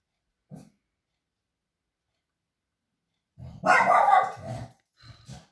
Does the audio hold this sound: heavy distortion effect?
no